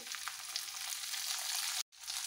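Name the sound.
frying jackfruit in oil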